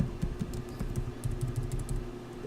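Quick, irregular keystrokes tap on a computer keyboard while a command is entered in Kali Linux, a close run of light clicks spread across a couple of seconds.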